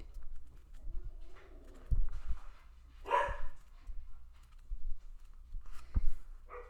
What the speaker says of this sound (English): somebody just came home, so the dogs will bark